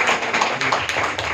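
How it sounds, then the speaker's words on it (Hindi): A crowd claps at a gathering, a dense, loud patter of many hands, close and continuous over a brief stretch. "जोरदार ताली सब लैंग्वेज के लिए"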